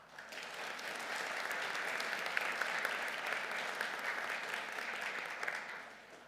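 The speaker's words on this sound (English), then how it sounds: "Let's give him a round of applause." Steady applause from an audience at a university honors convocation, a dense even patter of many hands clapping that holds for several seconds before tapering off.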